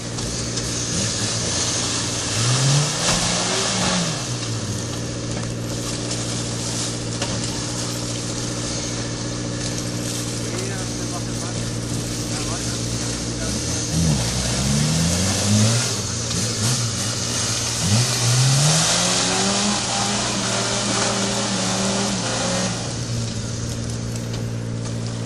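Suzuki Samurai 4x4 engine revving repeatedly on an off-road route near Málaga, loud and close with rising and falling surges over a steady idle drone.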